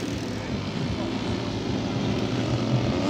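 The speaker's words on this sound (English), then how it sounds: "There goes that superb Lazer 300 V twin engine on that wonderful Fieseler Storch F1." A quarter-scale RC Fieseler Storch Fi 156 model plane powered by a Lazer V-twin engine drones steadily overhead at a flying event, a constant buzzing propeller note at moderate distance.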